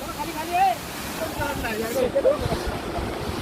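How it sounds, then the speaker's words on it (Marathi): Steady rushing water roars throughout, a broad continuous wash of Chandranagar Waterfall at Dapoli falling close by, with a few faint voices briefly rising over it. "चला या ठिकाणी आम्ही खाली हा धबधबा आहे"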